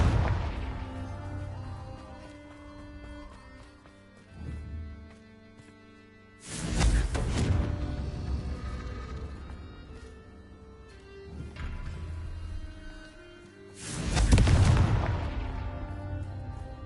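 Confringo blasting spell explosions in the video game Hogwarts Legacy, two loud, sharp booms about eight seconds apart, each with a rumbling decay, with smaller bursts and a low musical drone between them.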